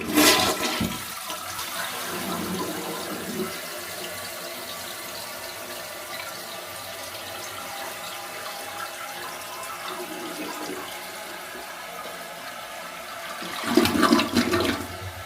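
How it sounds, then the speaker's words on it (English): A motel toilet flushes slowly, starting with a loud close gush, then a long steady rushing refill and hiss, ending in a final surge of draining water. "this thing takes the FedEx route to flush the toilet"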